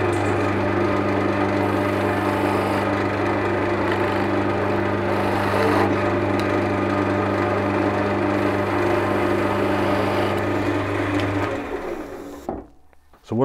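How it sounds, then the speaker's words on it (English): A spindle gouge cuts into an off-center wooden wand spinning on a wood lathe, giving a steady, loud whirring hum with continuous scraping that runs unbroken and then stops abruptly near the end. "I'll just use my other spindle gouge just to put a slight end on there"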